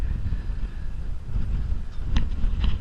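Steady wind roars across the microphone while a sailboat runs between two reefs on a rough passage from Cooktown to Lockhart, a constant low rumble with a few brief splashy bursts near the end.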